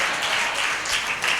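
A congregation at a church sermon clapping loudly and continuously together, a dense wash of hand claps filling the hall.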